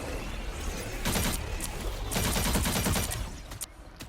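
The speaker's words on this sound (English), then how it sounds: "So, whenever I shoot this guy," Impact beam fire in the video game Marvel Rivals sounds as a dense, loud burst of rapid gunfire-like blasts that comes in waves across a few seconds and fades at the end, with no talking.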